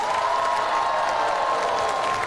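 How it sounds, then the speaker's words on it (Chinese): Sustained applause and cheering from an audience at a children's class performance, loud and continuous throughout with no pauses. "掌声加欢呼声"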